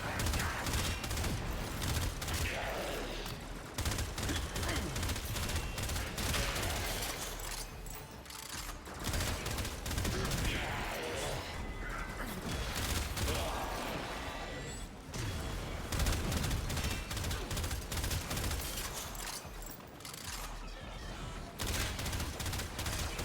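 Rapid, dense gunfire from the Warframe video game keeps up almost without pause, loud and close, in overlapping bursts that sound like several weapons firing at once, with brief mechanical clicks mixed in.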